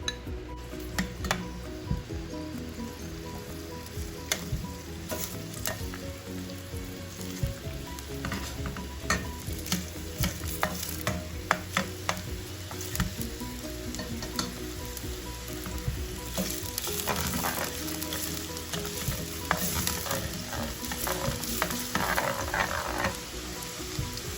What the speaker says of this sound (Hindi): हाफ कप मैंने लिया कुकिंग ऑयल, जिसमें मैं डालूंगी प्याज